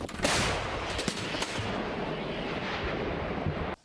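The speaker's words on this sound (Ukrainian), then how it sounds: "закидують 48 кілограмові снаряди в гармату, яка зі свистом відправляє їх туди, до ворога" A heavy artillery cannon firing 48-kilogram shells in Donetsk region blasts near the start, followed by a long rumbling roar with a few sharp cracks, then a sudden cutoff.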